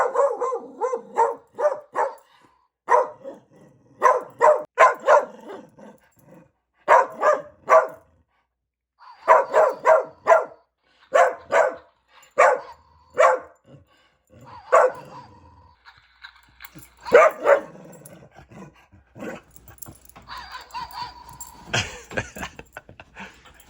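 A dog barks repeatedly at a small mouse toy, sharp barks coming in close, loud bursts of three to five with short pauses between, some yips and whimpers mixed in toward the end.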